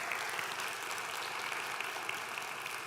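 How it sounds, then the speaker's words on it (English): Steady applause from an audience at an evening craft night, a dense continuous patter of many hands clapping at even loudness throughout, with no talk over it. "let's give them a round of applause"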